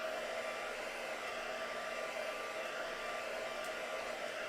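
A hair dryer blows steadily on a mixed media art page, a continuous close whirring hiss that holds at an even level throughout with no voices.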